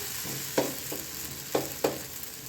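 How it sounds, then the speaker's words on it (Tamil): Beetroot dosa batter sizzles with ghee on a hot pan in a steady, close frying hiss, broken by a few sharp clicks and taps of a utensil. "நம்ம தோசை ஊற்றிடலாம் வாங்க இப்போ நம்ம நெய் போட்டுக்கலாம்"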